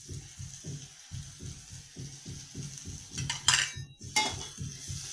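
Shelled, washed pavta beans tumble into hot spiced oil with a soft sizzle, followed by a spoon stirring and clinking against the pan in a steady rhythm, close and moderately loud.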